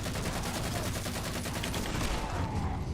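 Rapid automatic gunfire from a gun in the video game Halo 4 rattles continuously for about three seconds, dense and steady at moderate loudness.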